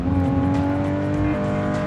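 A stock RB26-engined JDM sports car accelerates in BeamNG, a steady, loud engine tone climbing briefly before a gear change, close and alone with no talk.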